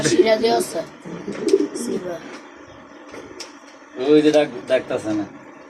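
Pigeons coo softly in short bursts while people talk nearby, their voices often overlapping the calls.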